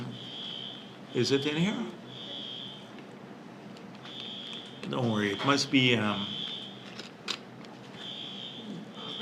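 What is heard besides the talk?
fire alarm going off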